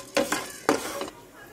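Whole spices are dry-roasted in a pan, a few quick scraping stirs and light rattles sounding close, with a faint crackle between strokes.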